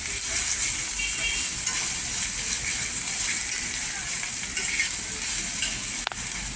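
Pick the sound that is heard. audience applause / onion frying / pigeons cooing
onion frying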